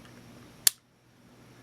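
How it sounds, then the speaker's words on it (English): A Rollei 35 camera fires its shutter at 1/500, giving a single crisp, close mechanical click against a quiet room, followed by near silence. "let's try out the shutter here at the different settings"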